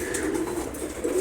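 Pigeons at feeding time, including a pair kept among the flock, give soft low cooing that runs continuously through the moment, close by and moderately quiet, with no talking over it.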